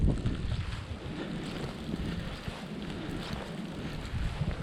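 Strong blizzard wind rages steadily across the microphone, a dense low roar with gusting surges and no voices.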